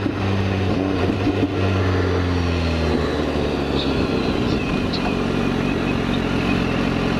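BMW S1000RR sport motorcycle engine running while riding, a continuous loud mid-pitched drone with strong harmonics whose pitch slides down and then holds steady, with wind rush throughout.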